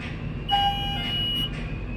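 A tower crane's maximum-load alarm sounds during dismantling: a steady, high electronic beep tone holds for about a second over a constant low rumble of site noise.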